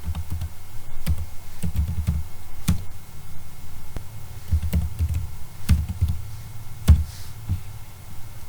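Someone types a value on a computer keyboard, a series of crisp key clicks and taps in irregular bursts, close and clear against a quiet room with no talking.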